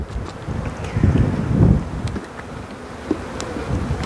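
Honeybees hum and buzz around brood frames during swarm making on the coast, a steady close drone that swells louder near the middle with wind buffeting the microphone, no talking.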